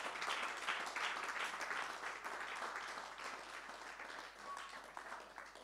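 A church congregation applauds and cheers in praise of the Lord Jesus, a dense, sustained wash of clapping that holds steady throughout, with no single voice standing out.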